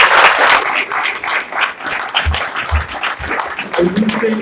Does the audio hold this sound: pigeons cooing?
no